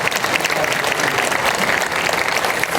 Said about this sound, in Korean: 다시 한번 영광의 박수 올려드립니다.